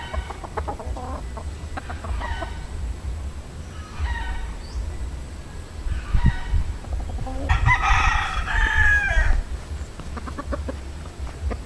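Boston Roundhead gamefowl crossed with Sweater roosters crowing in a backyard, with several crows spread through the stretch, the loudest and longest near the end, over a steady low background rumble.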